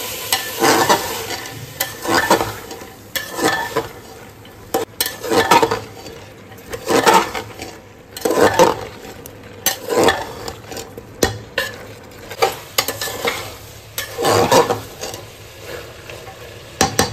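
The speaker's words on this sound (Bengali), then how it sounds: "খুন্তি দিয়ে মশলার সাথে নাড়িয়ে চাড়িয়ে নিয়ে মটরটা আমি ঢেলে দিচ্ছি।" A spatula stirs spices around a hot frying pan before soaked peas go in for ghugni, with loud repeated scraping strokes over steady sizzling and occasional metal clinks, no talk.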